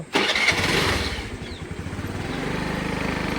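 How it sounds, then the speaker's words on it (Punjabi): A scooter's electric self-starter cranks briefly, then the small engine catches with a sharp burst and settles into a steady, throbbing idle, heard up close outdoors on a hot afternoon with no talking. "ਸਕੂਟਰੀ ਨੂੰ ਮਾਰੀਏ ਸੈਲਫ"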